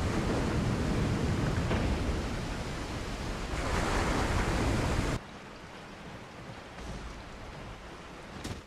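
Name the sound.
waterfall opening in Resident Evil 4 video game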